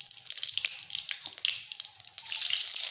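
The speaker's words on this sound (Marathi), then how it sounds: "तेल गरम झालं आहे, याच्यामध्ये जिरं आणि मोहरी टाकून छान असं बघा लाल झालं आहे" Cumin and mustard seeds sizzle and pop in hot oil, a close, bright crackling hiss with scattered sharp spits that swells louder toward the end.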